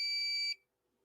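Continuity tester beeping while probing a circuit board, a single steady high electronic tone lasting about half a second, then cutting to silence.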